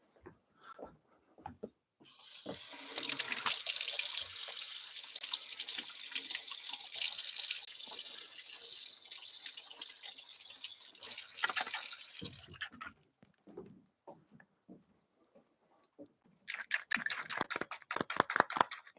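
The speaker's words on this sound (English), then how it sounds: "And quickly run mine under a tap, just so that they're nice and loose." Water from a tap gushing over pucks held underneath to loosen them, a steady rushing stream for about ten seconds that stops, followed by quiet dripping and a rapid burst of clattering near the end.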